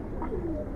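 A Bagha pigeon gives a short, soft coo, a single low murmuring call close by.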